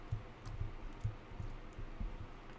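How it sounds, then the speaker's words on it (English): A low, muffled heartbeat sound effect from the Minecraft Warden pulses in a steady double-thump rhythm, about four beats in under three seconds, quiet and alone over a faint hum. "like the Warden heartbeat"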